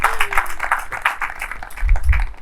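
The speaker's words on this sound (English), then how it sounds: "That's worth a clap." An audience at a Department of Energy announcement claps briefly, a modest burst of individual hand claps heard fairly close, with low rumbling room noise near the end.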